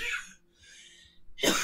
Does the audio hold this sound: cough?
yes